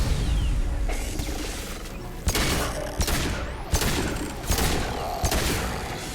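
Repeated bursts of gunfire from the video game Mass Effect 2 crack out in loud, dense volleys with mechanical clatter between them, and no one speaks.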